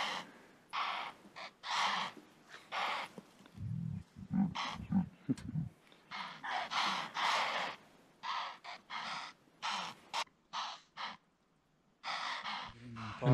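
Impala alarm snorts in the wild after spotting a leopard, loud repeated sharp bursts in an irregular rhythm, with low rumbling animal sounds mixed in partway through.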